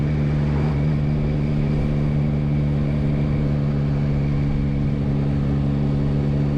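A 2022 Yamaha MT-09 with its CP3 triple engine held at 3000 RPM in third gear, a steady, even hum with a smooth low drone, close and constant under light wind.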